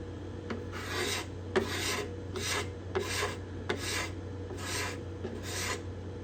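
A hand scraper works the bindings and purflings on the cedar top of a Desmond guitar, making about seven rhythmic rasping strokes, each a short, dry scrape separated by brief pauses.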